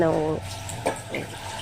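Water is poured into a cooking pot for goat leg soup after rinsing a mixer jar, a short close splashing flow heard beside a woman's speech.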